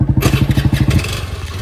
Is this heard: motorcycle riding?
yes